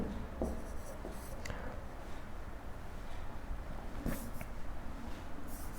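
Marker or chalk writing on a board during a classroom lesson, heard as soft scratchy strokes under a constant background hiss, with a few brief sharper taps.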